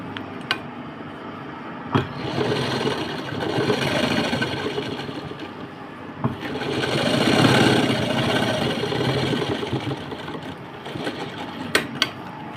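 A sewing machine stitches folded cloth for a purse, a steady mechanical whirring hum that swells and eases over time, with a few sharp clicks.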